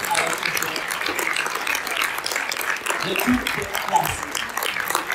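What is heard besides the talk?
audience applause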